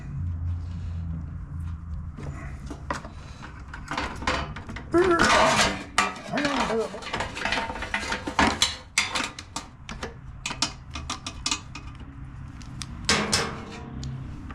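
Metal pans and a bucket clatter and scrape in a series of irregular, close clanks and knocks while being handled beside a Toro 22-inch Recycler lawn mower during draining, with quieter rustling between bursts.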